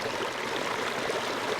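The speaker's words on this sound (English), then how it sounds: "All right, so there's my stream." A mountain spring stream flows nearby, a steady, full rush of water with constant bubbling and trickling, unbroken and alone.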